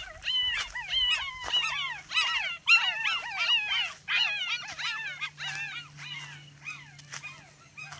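Several puppies near a rural tower yelp, whimper and whine in a rapid, overlapping high-pitched chorus that comes in close bursts, then tapers into fainter, sparser cries over a low steady hum.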